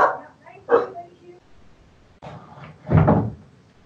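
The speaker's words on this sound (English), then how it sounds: "My dogs are going crazy." Two dogs indoors bark excitedly in short sharp bursts, with two loud outbursts separated by a quieter pause and some speech mixed in.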